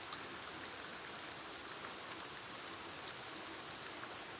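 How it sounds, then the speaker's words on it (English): Rain falls steadily on a residential street, a dense even hiss of drops with no voices, constant and moderately loud throughout. "I'll show you guys the rain on my street"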